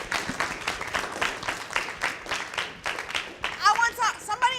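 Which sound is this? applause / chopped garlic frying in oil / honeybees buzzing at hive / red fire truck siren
applause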